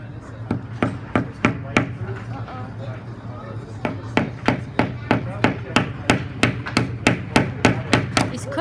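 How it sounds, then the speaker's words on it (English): Sharp, rhythmic hammer taps on plastic and wooden pieces of a Lowes Build & Grow pull-back race car kit, two bursts of evenly spaced knocks with a short pause between, close and loud over low room hum. "and you just hammer down a little bit."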